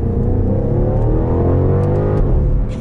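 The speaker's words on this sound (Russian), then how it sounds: "Сейчас я хочу во второй раз выжать газ в пол, чтобы еще раз ощутить ее" BMW Alpina B5 Biturbo Touring accelerating at full throttle in second gear, a loud continuous engine roar climbing steadily in pitch, heard from inside the car with no talk.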